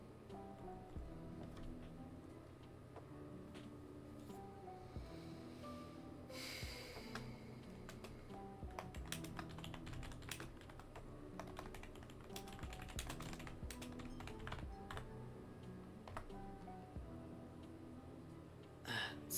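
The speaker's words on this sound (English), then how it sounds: "See, I'm either talking or typing." Keys on a computer keyboard clatter in quiet, irregular bursts of soft clicks, close up and faint, with occasional breaths and small room noises between the runs of typing.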